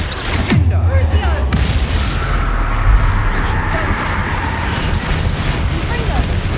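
Confringo and Bombarda spells explode in Hogwarts Legacy, giving a sustained, loud rumble of blasts and booms, while a voice calls out spell names over the din.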